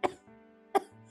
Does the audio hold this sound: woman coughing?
yes